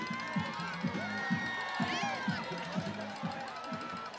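Crowd at a varsity high school football game, Andrew vs. Thornridge: steady roaring and cheering from the stands with a rhythmic pumping music beat underneath, and a commentator talking over it.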